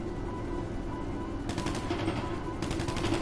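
Sniper rifle fire in GTA V: two sharp, loud, close shots a second apart, each with a short tail, over a steady game ambience with no talking.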